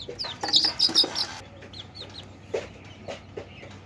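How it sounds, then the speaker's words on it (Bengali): Young desi chickens chirp and cluck in quick, close bursts, busiest in the first second and a half, with scattered softer peeps after that. "আর একটা দেশি মুরগির বাচ্চা ধরে নিয়ে আসি"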